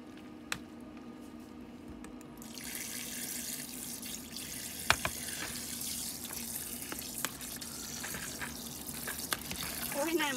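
Tap water runs steadily into a sink while mushrooms are washed, a continuous close splashing wash with occasional small knocks and clatters, no talking.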